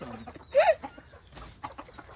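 A chicken gives one short, fairly close cluck, followed by quiet rustling background noise.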